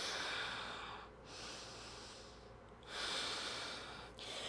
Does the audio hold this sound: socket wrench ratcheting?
no